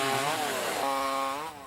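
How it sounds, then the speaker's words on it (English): A chainsaw roars steadily at high revs during tree removal in a garden, loud and close, with a slight drop in pitch as it cuts before easing off at the end. "You won't hear the sound of chainsaws roaring on just any gardening show"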